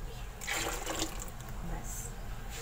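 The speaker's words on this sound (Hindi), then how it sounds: "मैं इसमें पानी डाल दूँगी" Water is poured from a vessel into a pot of thin tempered daal mash (white lentils) on the stove, a brief soft splash and gush that is quiet and close.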